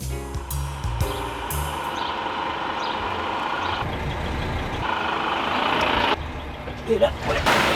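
A heavy truck manoeuvres close to a cyclist on a city street, its engine rumbling with repeated reversing-style beeps and hissing air-brake bursts, a voice speaking over the traffic noise.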